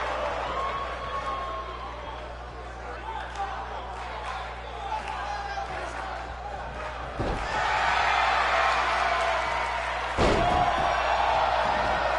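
Wrestler stomps land on the ring mat as heavy thuds, with two loud booming slams standing out amid steady crowd noise in an arena.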